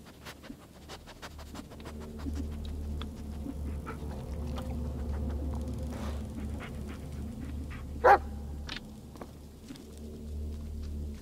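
Bullet the dog in the Blair Witch video game sniffs and pants close by over a low steady rumble, with soft scattered ticks and one brief sharp yelp-like burst near the end.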